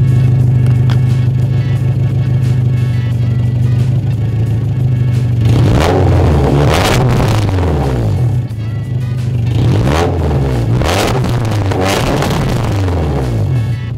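A Honda Civic EK9 Type R engine revs hard in loud repeated bursts over a steady idle, rising and falling in close succession with no talking.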